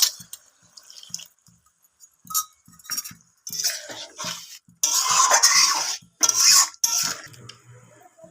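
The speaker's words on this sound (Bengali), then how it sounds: "জল আরও একটু জল দেবো" Water poured into a pan of chili chicken, heard as bursts of splashing and trickling in short runs with small clinks between them, close and fairly loud, with no talk.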